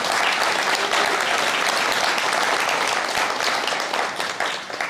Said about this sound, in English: let's give another round of applause for all that we had to celebrate today